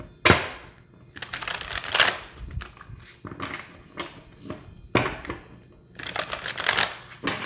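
Tarot cards being shuffled by hand in repeated riffling bursts, close and fairly loud, with short pauses between shuffles and no talking.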